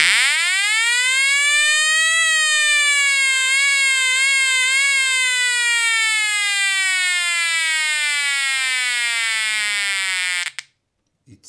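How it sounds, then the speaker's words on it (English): Loud electronic siren from a button-operated skeleton circuit, wailing steadily, rising at first then sweeping up and down in pitch before slowly descending, cutting off abruptly near the end. "It's an electronic siren."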